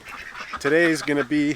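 Ducks in a free-range farm flock quack in a few loud, close, nasal bursts near the end, just after a person speaks briefly over them.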